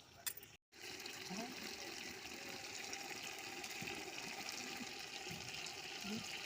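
Water poured into a pot of mutton curry with potatoes, a soft continuous gushing pour heard close, with faint clinks, after a brief cut near the start.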